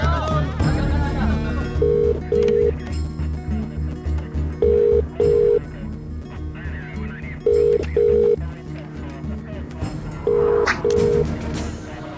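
Repeated bursts of touch-tone dialing beeps, each a pair of short tones, recur in a steady pattern over music and background sound.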